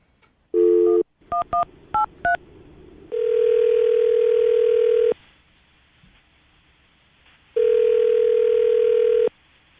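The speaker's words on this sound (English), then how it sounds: "we're about to dial her phone number right now" A telephone dials a number with a quick run of touch-tone beeps, then a long ringback tone sounds twice with a pause between, loud and clear with no talk over it.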